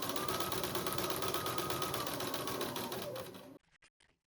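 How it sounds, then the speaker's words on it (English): Sewing machine stitching around appliqué letters on a sweatshirt, a fast steady mechanical whir of needle strokes that runs evenly, then stops abruptly, leaving a few soft clicks and handling taps. "continue sewing as you do all the turns around the letters"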